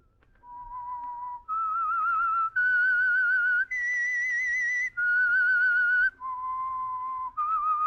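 A lone whistler performs the slow, eerie theme melody of the radio drama The Whistler, sustained notes stepping up and then back down, clear and close with a slight vibrato.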